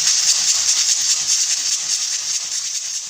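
A pressure cooker cooking chana dal with pumpkin lets out a steady, loud hiss of escaping steam, close and continuous throughout with no talking.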